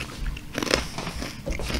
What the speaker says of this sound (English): we'll chew into our mics.